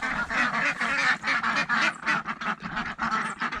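A flock of khaki Campbell ducks quacks close by in quick, overlapping bursts, a busy and continuous chatter of loud nasal calls.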